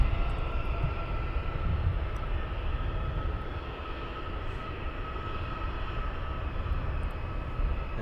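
Jet airliner departing Luton Airport, a faint, distant, continuous engine roar with a steady high whine running throughout, with no voices.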